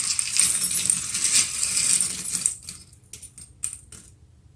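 Small metal charms clink and rattle in a series of sharp, separate taps after a steady hiss, close up and fairly quiet.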